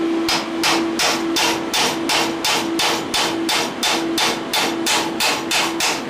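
Steady, evenly spaced metal hammer blows as a round metal pipe is forced into a 15 by 15 millimetre square pipe, about sixteen sharp ringing strikes close up with no talking.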